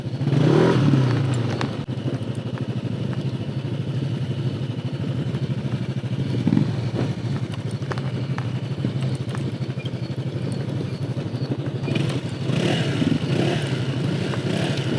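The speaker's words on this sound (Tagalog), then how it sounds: "Ayan tayo, engine brake na tayo guys." Motorcycle engine braking on a downhill mountain road near Sagada, a steady low engine drone with clatter and wind rush, heard continuously from the rider's position.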